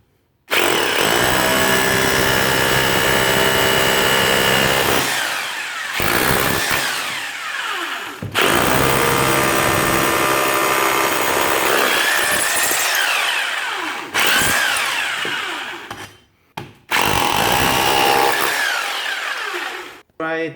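A Parkside hammer drill, PBH 1050 B2 or PBH 1500 D4, chisels in a loud, continuous rattling hammer roar. It stops briefly a few times and restarts, with a choppier burst near the end.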